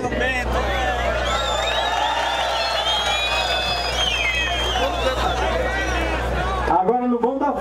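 A crowd at a union assembly applauds and cheers for a Federal Police officer, with dense clapping, whoops and many voices layered over a low hum, ending in a brief stretch of speech.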